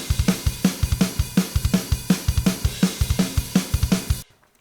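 A standard drum kit from Logic plays a punk rock beat, with punchy kick and snare hits in a fast, steady rhythm and constant cymbal wash, loud and alone before stopping abruptly.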